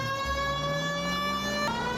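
A 1940s police car siren in the video game L.A. Noire holds a steady wailing tone, loud and continuous, with a brief pitch jump near the end over low engine rumble.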